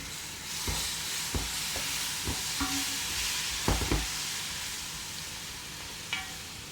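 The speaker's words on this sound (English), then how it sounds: "next we're gonna actually put in our garlic. So this is gonna be our crushed garlic" Crushed garlic frying in a pan for chicken biryani, a steady close hiss of sizzling oil with a few soft knocks and clicks of utensils scattered through, no talking.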